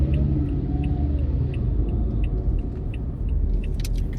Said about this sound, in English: Car sound horrible.